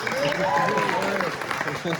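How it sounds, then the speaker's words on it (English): A comedy club crowd claps steadily at moderate volume, with a whoop or cheer rising over the clapping for the whole two seconds. "Another round of applause, please."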